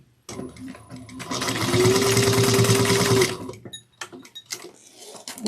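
A sewing machine stitches a fold-over cross-body bag near its hardware in one steady loud run of about three seconds, then stops, followed by a few quiet handling clicks and rustles.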